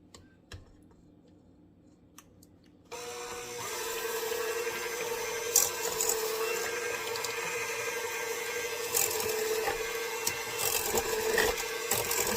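A hand mixer whirs steadily after a quiet start, beating sugar and oil for vegan red velvet cupcake batter inside a mixing bowl, with clicks and rattles against the bowl and no talk.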